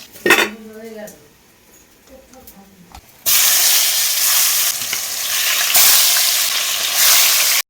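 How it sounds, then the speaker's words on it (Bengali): Chicken fries in hot oil, and after a few quiet seconds with a brief voice and some clinks, it bursts into loud, sustained sizzling with occasional clatter of a utensil against the pan. "এইদিকে আমি চিকেনটা ফ্রাই করতে বসিয়ে দিয়েছি ফ্রাই হচ্ছে চিকেন"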